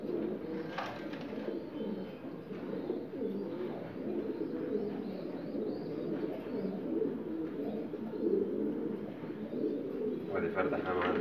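Pigeons coo softly in a low, murmuring chorus, with occasional brief chirps and some voices talking in the background.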